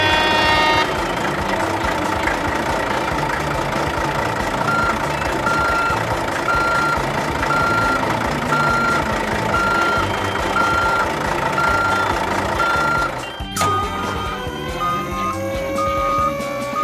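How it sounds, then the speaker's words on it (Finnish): A toy dump truck carrying stones plays a steady, loud electronic reversing beep over a constant motor whir, repeating evenly before an abrupt change near the end. "Kuorma-auto kuljettaa kivet louhittaviksi."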